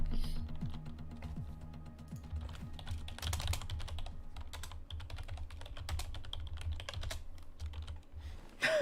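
Rapid, forceful typing on a computer keyboard during a sim-racing broadcast, a dense run of sharp clicks and clacks over a steady low engine-like hum for the whole stretch.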